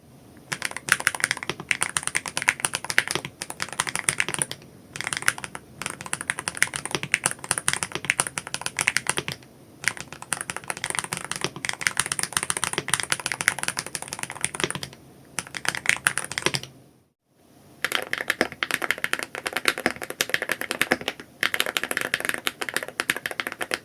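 Fast continuous typing on a mechanical keyboard fitted with Hall effect (magnetic) switches, giving bright, high-pitched clacks that still carry some low thock, close and loud, broken by a few short pauses and one silent gap near the end.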